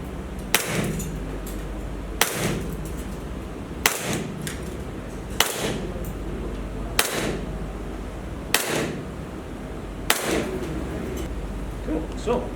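A Cybergun CANiK TP9 Elite airsoft pistol runs on green gas and fires 0.2 g BBs from a full magazine. It gives about eight sharp, evenly spaced cracks at close range over a low background hum.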